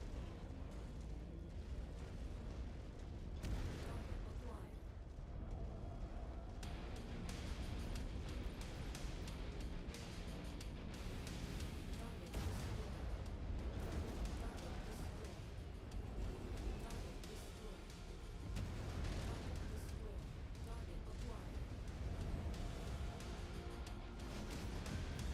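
Souped-up clan turrets in a video game fire relentlessly with clan weapons, producing a dense, continuous barrage of booming blasts and pops that stays loud throughout with no pauses.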